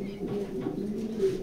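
A pigeon coos softly at a pigeon loft, a low steady murmur of repeated coos that runs throughout at moderate distance, with faint background noise and no clear talk.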